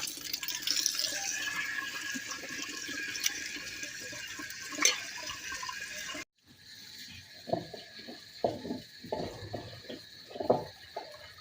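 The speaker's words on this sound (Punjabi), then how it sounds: "ਅੰਮਾ ਜੀ ਇਹਨੂੰ ਥੋੜਾ ਜਿਹਾ ਪਾਣੀ ਮਾਰਿਆ ਜੇ।" Water is splashed into a cooking pot on an evening village fire, a soft sloshing pour followed by a break and then several short irregular splashes and trickles, fairly faint and close.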